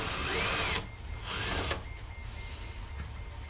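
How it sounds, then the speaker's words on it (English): A base plate being removed to reach the screws underneath during a repair, heard as two bursts of high whirring power-tool noise, close and fairly loud, each under a second long, followed by quiet handling. "I'm taking off the base plate so I can get to the screws underneath"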